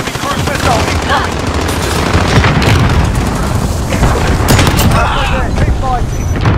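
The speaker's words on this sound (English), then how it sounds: "Enemy cruise missile incoming." Enemy cruise missile blasts in a Call of Duty battle, heavy booms layered with rapid machine-gun fire and dense gunfire that runs loud and unbroken throughout, with voices talking underneath.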